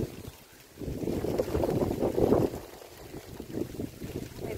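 Strong wind gusting across open rice fields, a continuous rushing roar buffeting the microphone and swelling in the middle before easing slightly.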